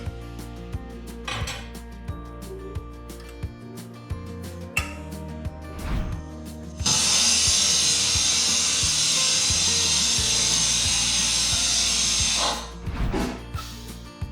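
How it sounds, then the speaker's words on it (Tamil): Pressure cooker whistling while chicken biryani cooks, a loud sustained hiss of about six seconds, preceded and followed by clinks of pots and utensils in a kitchen. "இப்போது விசிலு அடங்கிருச்சு"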